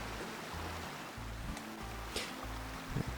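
Water rushes loudly and continuously in the hunting video game Way of the Hunter, a dense broadband wash with low rhythmic pulses and a few brief splashes, close and without talk.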